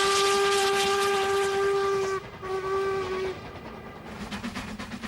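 A Stanier Black Five steam locomotive sounds its whistle, a loud sustained tonal blast that breaks briefly, sounds again, then stops, leaving the rushing hiss and chuffing of the engine.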